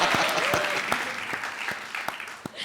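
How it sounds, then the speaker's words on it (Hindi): A television comedy show's studio audience claps in a brisk, moderately loud burst, with sharp individual hand claps standing out. "ताली बजाओ यार, तब चलेगी ये, ताली बजाओ कुछ नहीं करता।"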